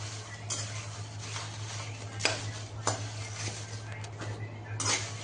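About 50 grams of bay leaves are dry-roasted in a pan without oil over low heat for homemade kala masala, with repeated scraping and clinking of a metal spatula against the pan over a steady low hum.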